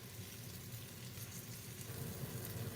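A flour-dusted beef pot roast sears in a hot pan, with a steady, dense sizzle and crackle that holds evenly throughout, with no talking.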